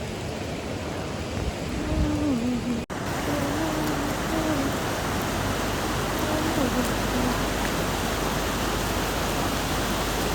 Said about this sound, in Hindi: It's raining.